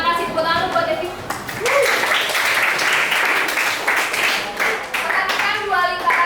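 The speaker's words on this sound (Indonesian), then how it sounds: "tepuk tangan buat Devi." Children applauding in a mathematics classroom, a burst of brisk clapping lasting several seconds with a teacher's voice and kids' voices mixed in at the start and end.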